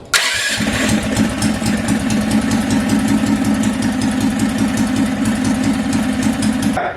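A big block 420cc engine on a GMB100 minibike frame runs steadily at close range after a brief start, with a loud, even mechanical throb and rattle throughout and no talking.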